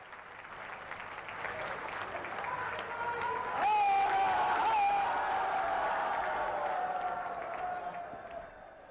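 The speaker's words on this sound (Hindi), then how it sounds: "आप सब अपनी भावनाओं के पुष्प जोरदार तालियों के माध्यम से मंच तक पहुंचाएंगे" A large crowd at a public event for a prime minister's inauguration of development projects in Uttar Pradesh bursts into loud, sustained applause that swells, peaks and slowly fades, with a voice over a loudspeaker partly audible beneath it.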